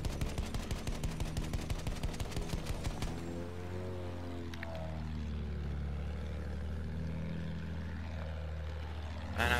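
Rapid machine-gun fire in an aerial combat game, a dense rattling burst for about three seconds, followed by a steady droning engine and a sweeping whoosh as the aircraft banks.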